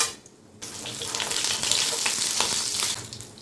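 Mustard seeds, fennel and chana dal hit hot oil for potato poori masala, a sudden loud broadband sizzle that flares after a quiet start and holds steady, crackling, before easing off near the end; no talking.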